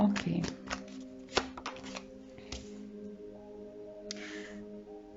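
Tarot cards shuffled by hand in a pick-a-card reading: a few quick papery riffles and slaps near the start, then lighter handling sounds, with a short spoken word and a faint steady hum in the background.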